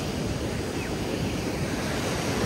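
Sea waves roll in beside a seaside campsite near Port Arthur, Tasmania, a steady, dense roar of surf with some wind noise and no voices.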